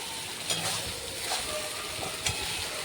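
Prawns fry in a pan with a paste of mustard, poppy seed, coconut and green chilli, a continuous close sizzle and hiss with soft scraping bursts as the mix is stirred around, and no one speaking.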